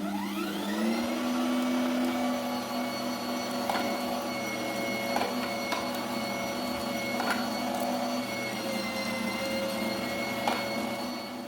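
An electric meat grinder with a medium-hole plate mincing chunks of meat and two onions, a loud steady motor whine that rises as it starts, then drones on with occasional knocks and clicks as pieces feed through.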